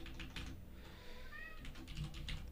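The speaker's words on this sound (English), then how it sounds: "One moment, my cat is whining." A house cat meows in a quiet, drawn-out rising whine beneath faint computer keyboard typing, both soft and close in a home room.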